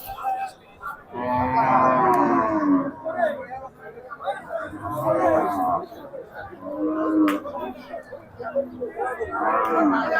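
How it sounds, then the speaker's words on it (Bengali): Cattle, including Holstein Friesian cows, lowing at a busy livestock market, several moos rising over steady crowd chatter and voices nearby. "ব্যাপারীরা গরু নিয়ে দাঁড়িয়ে আছে"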